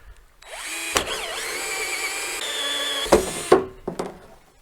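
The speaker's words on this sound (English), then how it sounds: "so let's drill us a hole" A power drill bores a hole into a thick plastic barrel, its motor whining up loudly with a rising pitch and grinding steadily for about two seconds, then stopping and giving a few short bursts as the bit catches.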